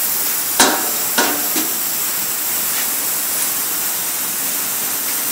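Drills spin in the arbors of a 1900 bifold door machine, fed with air and lubricant, giving a steady broad hiss. A few sharp knocks sound early on, with no talk.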